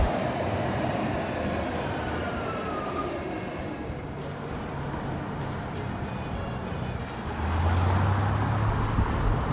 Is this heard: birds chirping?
no